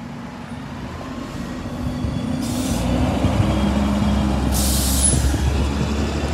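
A bus pulls in at Lincoln Central bus station, its engine rumbling steadily and growing a little louder, with two short hissing bursts of air brakes, no talking.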